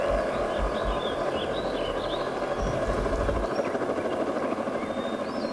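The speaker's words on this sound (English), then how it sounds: "It was a helicopter." A helicopter passes loud and close overhead, its steady rotor drone and engine roar filling the scene continuously with no voices on top.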